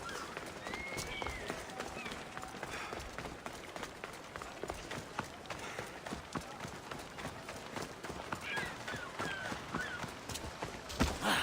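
Horse hooves galloping in the Assassin's Creed Odyssey video game, a quick rhythmic run of thudding clip-clops that keeps up steadily at moderate volume over a faint game background.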